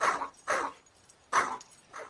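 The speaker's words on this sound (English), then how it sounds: "That dog barking" A dog barks four times in sharp single barks spaced irregularly, close by and fairly loud, with quiet between them.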